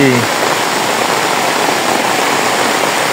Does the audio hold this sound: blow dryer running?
no